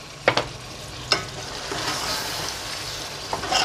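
Yogurt stirred into quail kadai frying in ghee over low heat, with a steady soft sizzle and a few sharp scrapes and clinks of a spoon against the pan, close by and without talk.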